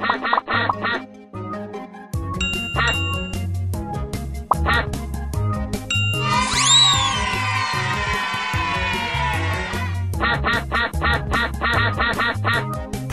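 Cartoonish ducks quack repeatedly in the children's phonics video game Teach Your Monster to Read, bursts of quacks over a bouncy game music loop, a dense flurry of calls in the middle, with no talking.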